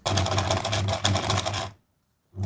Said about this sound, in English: you can follow the edge with a top stitch